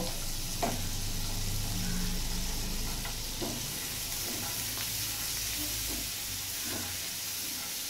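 Garlic and boiled corn frying lightly in a pan, with a soft steady sizzle and hiss, a few faint stirring taps, and no voices.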